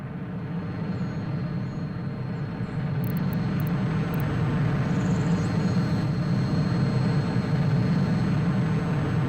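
A steady, droning propeller-aircraft engine hums continuously at moderate distance in a Soviet Republic simulation game, broad and even without breaks, with a faint high chirp or two partway through and no speech.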